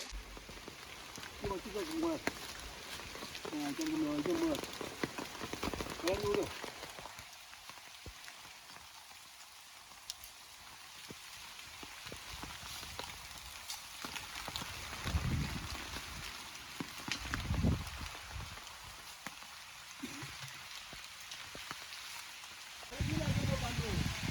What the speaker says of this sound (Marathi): आलो आहे, पण पाऊस सुरू झाला